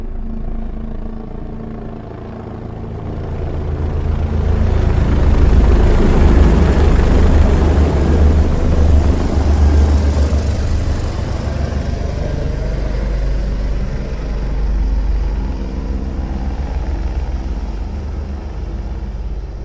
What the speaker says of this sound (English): helicopters will slowly creep up from the back of the theater. Close your eyes and feel them fly overhead.